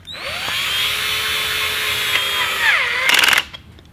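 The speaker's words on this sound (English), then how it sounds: "on the front, we have a 4mm Allen wrench on a screwdriver" Cordless screwdriver fitted with a 4mm Allen bit drives bolts into a Toyota Tacoma/4Runner wheel-well part, its motor whining steadily for about three seconds before slowing with a rising pitch and stopping with a final rattle.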